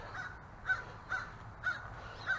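A crow caws above, sounding agitated, with about five harsh calls evenly spaced at a moderate distance over faint outdoor background.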